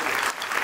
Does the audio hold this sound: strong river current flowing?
no